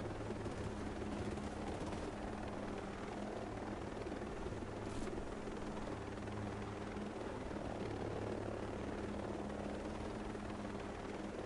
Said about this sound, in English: let me put this bloody fucking chopper down and someone fly it